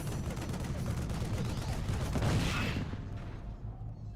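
Rapid gunfire crackles continuously from an auto turret in StarCraft II, a dense stream of shots mixed with game battle noise, moderately loud before thinning out near the end.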